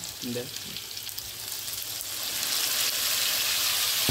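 Ginger and cumin spice paste frying in a pan, a close, steady hiss that swells louder toward the end, with a brief bit of voice near the start.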